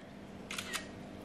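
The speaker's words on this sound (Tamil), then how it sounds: "இப்போ ஜஸ்ட்டு வந்துட்டு ஒரு ஃபோட்டோ மட்டும் எடுக்கிறேன்" An iPhone camera shutter fires once, a quiet double click taking a photo, in an otherwise hushed room.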